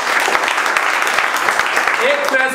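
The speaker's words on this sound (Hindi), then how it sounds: "जोरदार ताली बजा।" Audience applause during a mobile phone repair training session, a brisk, continuous patter of clapping from a gathered group, fairly loud, with a short tonal sound near the end.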